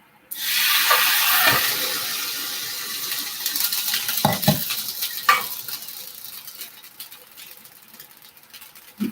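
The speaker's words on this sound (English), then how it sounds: "Maybe put a little bit of water with it so that it will steam." Water poured into a hot pan bursts into a loud sizzle and hiss of steam that slowly fades, with stirring scrapes and clinks under it, close by.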